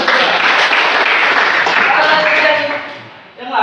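Students in a classroom applaud together, a steady loud wash of clapping for about three seconds that thins out near the end, with some voices mixed in.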